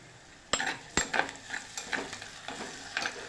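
Crushed cloves, a cardamom pod and garlic dropped into hot tempering oil for a tomato curry: a few sharp clacks as they land, then close, bright sizzling and crackling in short bursts while being stirred, no voices.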